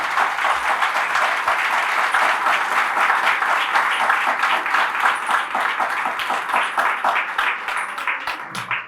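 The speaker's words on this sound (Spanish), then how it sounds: "Fuertes aplausos a Jesús por su amor y su misericordia" A church congregation applauds loudly during a Catholic sermon, steady dense clapping sustained throughout with no voices over it.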